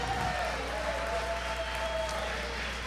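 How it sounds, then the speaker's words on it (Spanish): Steady applause from a small studio audience on a Venezuelan podcast runs continuously at moderate level, with a faint tonal whine above it and no speech. "Aplausos para Dora Mazzone, por favor."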